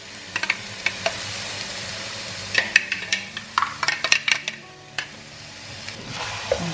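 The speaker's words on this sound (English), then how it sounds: "And just give that a stir" Chopped and pureed onions sizzle in a cooking pan for a vegetable karahi, with a close series of scraping stirs and clicks from about 2.5 seconds onward over a steady low fry.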